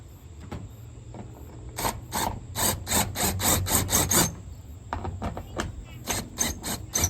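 A screw is driven through a drilled hole in a metal rib to mount conduit in a garage, with bursts of close, loud mechanical grinding in two runs and a brief pause between.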